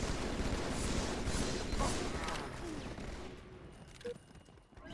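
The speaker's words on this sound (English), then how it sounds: "Immediately with the grenade launchers." Grenade launchers fire in a video game battle as a dense, continuous barrage of loud blasts and rattling gunfire, thinning out toward the end with a few scattered shots.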